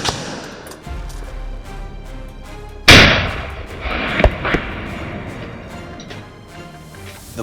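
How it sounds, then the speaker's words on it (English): Gunshots fired at a wild boar on a Texas farm: a sharp loud report followed by several more cracks and thumps in quick succession, ringing out over faint outdoor background. "Several gunshots rang out in quick succession."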